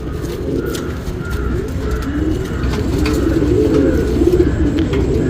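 Steady, overlapping cooing from several breeding pigeons, low and throaty, repeating continuously at close range with faint chirps above.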